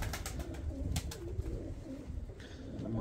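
A breeder's pigeon coos in repeated low throaty phrases, close and fairly loud, over a steady busy background with brief higher chirps from other birds.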